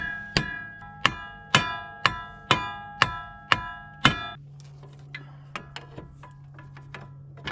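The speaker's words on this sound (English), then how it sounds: "And now I'm just hitting the axle." Eight loud, evenly spaced metallic hammer strikes ring on the axle of a 2008-12 Ford Escape front hub, then a string of lighter, quicker clanks follows under a steady hum.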